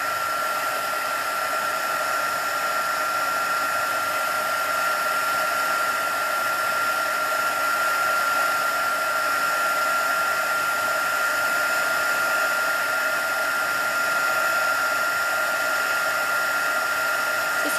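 Heat embossing tool blowing hot air, a loud, steady whirring hiss with a constant high whine that runs unbroken throughout.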